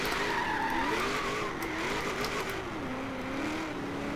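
A loud V8 engine in a Nissan 240SX Rocket Bunny drift build in the video game Forza Horizon 3 roars steadily with a wavering pitch, rising and falling as it revs, with tire noise underneath throughout.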